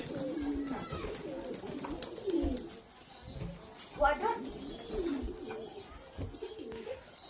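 Fancy pigeons bathing at a pigeon farm coo in soft, repeated low calls close by, mixed with scattered chirps and occasional talking.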